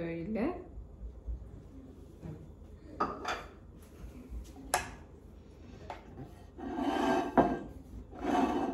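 Plates and cutlery clink and scrape in a home kitchen as an evening meal is served onto a plate, sounding as scattered close knocks and rattles with a voice speaking between them.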